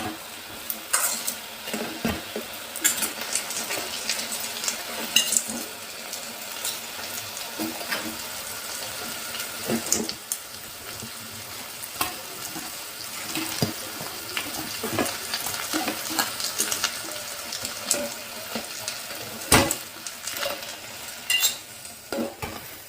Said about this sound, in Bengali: আমার পকোড়াগুলো সব ভাজা হয়ে গেছে